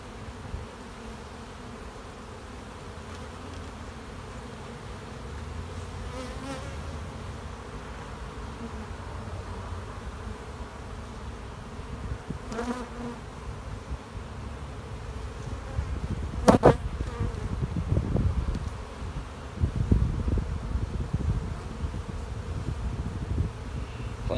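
Honeybees buzzing around an opened hive, a steady close drone with a few individual bees passing near, growing somewhat louder toward the end, with no voices.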